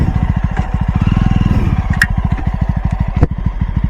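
A 2019 Jawa motorcycle engine runs close up, its steady, rapid single-cylinder thump loud and even, with a brief throttle change and a few small clicks and clatters over the beat.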